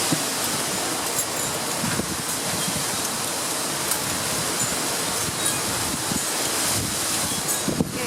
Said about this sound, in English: Really windy today.